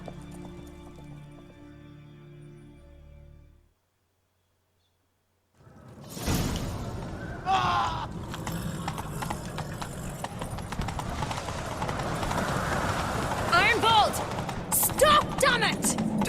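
Horse hooves clip-clopping at a gallop in The Witcher 3 video game, a steady rhythmic pounding that starts abruptly after a moment of silence and continues under ambient game sound and a brief whinny.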